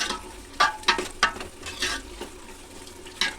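Green chillies frying in a pan for mushroom and peas palav, a soft steady sizzle broken by several sharp spitting pops and stirring scrapes, close and moderately quiet, with no talk.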